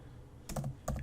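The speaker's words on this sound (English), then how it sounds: "So I'm going to type" Typing on a computer keyboard, a handful of close, crisp key clicks in two quick bursts after a short quiet lead-in.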